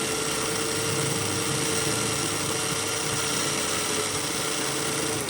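An electric drill spins a polishing attachment against a stainless steel watch body, giving a continuous high-pitched motor whine with a steady hum under it, loud and close, no voices.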